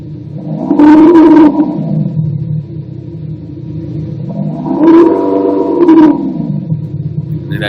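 A car engine fitted with a Kufatec Sound Booster revs up twice, each rev swelling into a deep droning roar and falling back to a low idle hum between them, loud and close with no talk.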